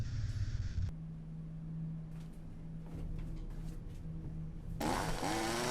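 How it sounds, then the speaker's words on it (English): A chainsaw wielded by a ghost in the horror game Cursed Digicam: a steady, droning motor buzz runs throughout at moderate level, with a sharper revving surge near the end. "Where did that ghost find a chainsaw?"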